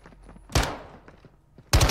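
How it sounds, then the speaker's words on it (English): Gunfire in a first-person shooter game: a loud burst of shots, then quieter clicks and game sounds, then another close, rapid volley at the end, with no talking. "I'm gonna bait this guy with my shots to get him to come out."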